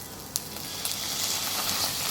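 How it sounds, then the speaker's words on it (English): Steady loud sizzling as a little water hits vegetables sauteing in a pan for green Thai curry, a dense continuous hiss with a few faint pops, close up and no talking. "Now just so that I could saute this a little well, I'm going to add very little water to this."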